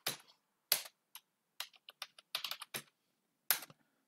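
Keys on a computer keyboard are tapped in short irregular bursts, about a dozen crisp clicks with brief silences between them, close and quiet, with no voices.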